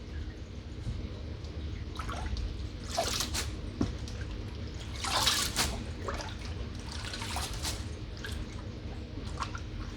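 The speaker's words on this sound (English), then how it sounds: "if you're doing it the easy way, let it drip dry" Water drips and trickles steadily off freshly washed leaf lettuce set out to drip dry while being packed for a farmers market, a soft irregular patter close by with no talking.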